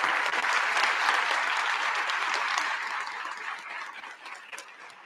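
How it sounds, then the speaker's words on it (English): Audience applause for scholarship donors at a school district scholarship presentation fills the room with dense, steady clapping that slowly tapers off, with no talking. "Let's have one more round of applause for our donors and representatives."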